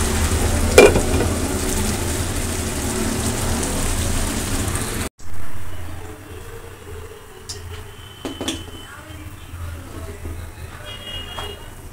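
Whole cardamom and cinnamon sizzle in oil in a covered kadai for chicken curry, a dense rain-like hiss for several seconds that cuts off abruptly, leaving a quieter muffled sputter with occasional clicks.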